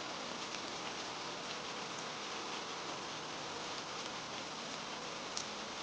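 Rain falls steadily in a cartoon, a constant soft hiss of drops with no voices over it.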